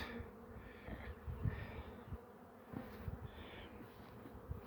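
Honey bees buzz around beehives in rainy Ardahan, a continuous soft hum of many insects with faint fluctuating drones close by.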